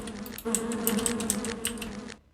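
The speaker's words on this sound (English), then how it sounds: "Those are actually probably spiders, not bees. Although they do sound like bees." Spider creatures in the DOS game Lands of Lore give off a steady insect-like buzz resembling bees, droning continuously with faint ticking overtones, then cutting off abruptly.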